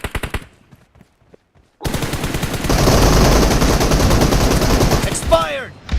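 Automatic gunfire in the PUBG video game, team deathmatch mode, opens with a few sparse shots, then becomes a sustained, loud burst of rapid fire lasting several seconds.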